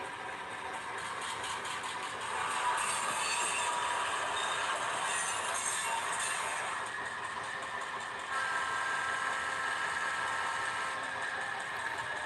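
A small model train engine hums and whirs continuously, rising in intensity for a stretch before settling, with no talking.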